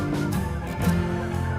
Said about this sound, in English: Can you hear the geese? Apparently they're taking off.